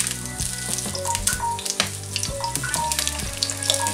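Onion frying in a pan for chicken cooked in dark beer gives a steady crackling sizzle, close and moderately loud, with light clinks and faint background music.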